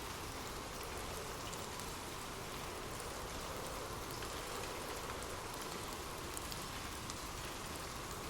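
Steady soft rain falling on surfaces, an even, continuous hiss with scattered drops, no voices.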